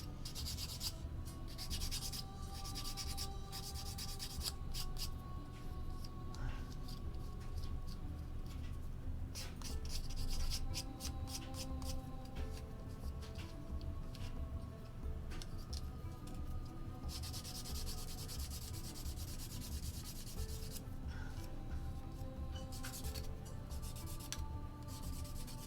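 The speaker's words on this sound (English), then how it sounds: "I'm just going to quickly sand off the flash." Flash is being sanded off a plastic BMP-2 model turret with fine sandpaper, giving quiet, close, steady scratchy rubbing strokes in repeated bursts. A low background hum sits underneath.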